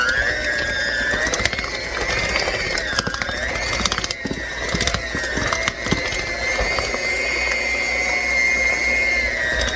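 Electric hand mixer beaters whirring steadily through cake batter with eggs for a pineapple upside-down bundt cake, a continuous close motor whine with rattling, clicking bursts as the beaters knock the bowl.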